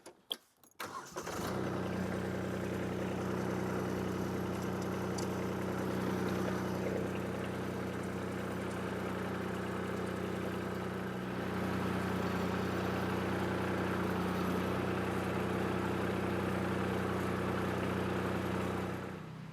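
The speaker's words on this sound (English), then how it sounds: "I first want to do a test run with the tractor to see if I can create any tension on the tree." A Kubota B2261 compact tractor's engine runs steadily and fairly loud through a test pull on a tree being felled, a low continuous hum that holds level with a slight rise partway through.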